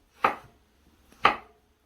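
A knife chops root pieces of a vegetable on a cutting board during home cooking, with two crisp, separate strikes about a second apart and no voices.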